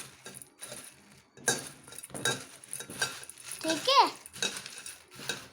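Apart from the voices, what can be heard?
mixing puffed rice into farsan for bhel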